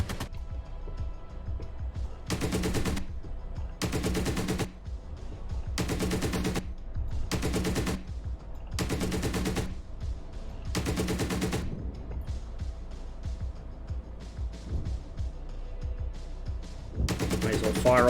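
Long bursts of a tank's machine gun firing off the rest of its belt in the PC game Gunner HEAT PC, roughly seven sustained loud volleys separated by short gaps, over a constant engine rumble.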